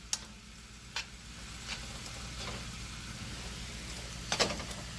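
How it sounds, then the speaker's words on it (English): A utensil stirs seasoning rub into food in a skillet over a low steady sizzle, with a few faint scrapes and taps scattered across a quiet background. "Now I'm gonna stir it up."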